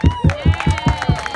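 An audience at a street show on Santa Monica Beach claps in a steady, quick rhythm, about seven sharp claps over a second and a half, close and fairly loud.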